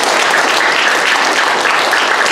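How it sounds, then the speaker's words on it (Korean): Dense, steady applause from a church audience at a pastors' celebration service, loud and continuous throughout with no voices over it. "다시 한번 힘찬 박수 한번 보내주시기 바랍니다"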